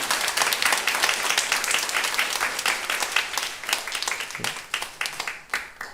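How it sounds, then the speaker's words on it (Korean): A church congregation at a Sunday service applauds, a dense burst of many hands clapping that holds steady and then thins into scattered claps near the end. "잠깐 우리 박수 쳐주시기 바랍니다"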